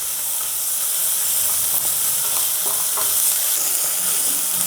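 Garam masala powder and ginger garlic paste frying in a kadai pan for kadai paneer, a steady loud sizzle and hiss with faint stirring scrapes throughout, close and without talk.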